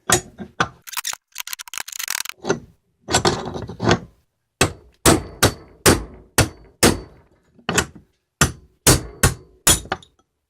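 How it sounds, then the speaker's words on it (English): Repeated hammer blows knocking apart an oil filter bearing assembly, sharp metallic strikes in an irregular then steady rhythm, loud and close with no talking. "Bigger hammer."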